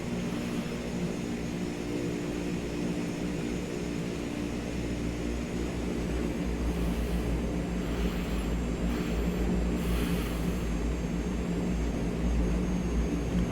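In Microsoft Flight Simulator 2020, a Canadair CL-415 amphibious plane's engines roar in reverse thrust after landing, a steady loud drone that swells slightly in the later seconds, with no speech.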